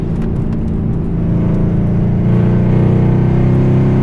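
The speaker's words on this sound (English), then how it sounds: "can you guys even hear us out there? This car is so loud." A loud, steady Mercedes-Benz CLS63 AMG engine drones and rumbles while driving, building slightly in intensity, with no talking.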